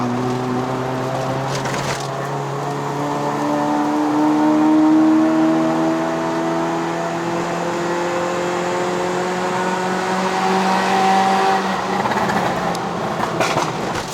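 A first-generation Perodua Myvi 1.3L climbs the Genting hill road, its engine note rising steadily through the revs with a sustained whirring drone heard from inside the cabin, easing off near the end.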